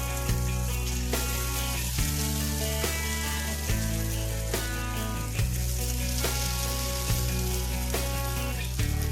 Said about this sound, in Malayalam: ഇനി നമുക്ക് ചൂടായ ഓയിലിലിട്ടിട്ട് ഇതൊന്ന് ഫ്രൈ ചെയ്തെടുക്കാം.